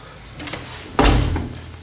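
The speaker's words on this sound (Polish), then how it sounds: "Czekaj, zamknę drzwi, bo" A door swings shut in an underground laboratory in a video game, a single heavy thud with a short rumbling tail after a few faint clicks, close and fairly loud with no one talking.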